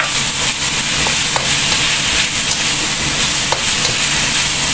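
Spring roll filling with dried mushrooms frying in a pan, a steady close sizzle and hiss running throughout with occasional scrapes and clicks of stirring, no voices.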